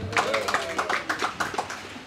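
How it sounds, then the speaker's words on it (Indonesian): A crowd claps in a steady run of sharp, evenly spaced claps, mid-distance, partly mixed with voices. "Saiful Karim, tepuk tangan."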